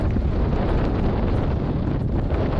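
Strong desert wind in the Sahara blowing sand, a loud, steady, close roar with heavy buffeting on the microphone and no talking.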